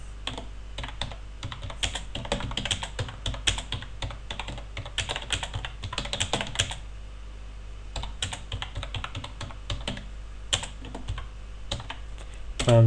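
Rapid, irregular keystrokes on a computer keyboard, close and fairly loud, in bursts with short pauses while a message is typed out; no talking.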